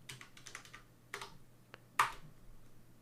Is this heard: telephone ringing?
no